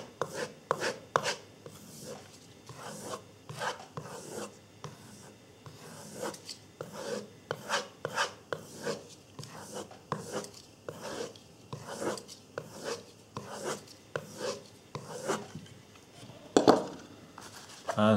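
An S30V steel knife blade stroked on a strop loaded with green Enkai compound, with steady, rhythmic rubbing passes repeating about twice a second, close and quiet, with no talking.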